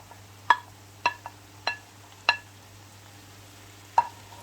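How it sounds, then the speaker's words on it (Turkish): Zucchini goes into a pan of sautéed onions and peppers for a Turkish ground-meat zucchini boat dish, giving five sharp clanks of a utensil stirring against the pan over a low steady sizzle and hum. "Arkadaşlarım soğanı sotelendi, biberlerini koymuştum. Bunlar sotelendi. Şimdi artık hazırlamış olduğum kabağı koyuyorum."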